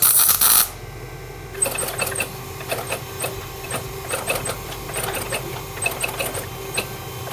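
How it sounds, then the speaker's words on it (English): Metal guard work for a Damascus sword, with a welder's rapid crackling buzz in irregular bursts after a loud opening hiss; close and steady with no talk. "Weld that ugly little thing on there."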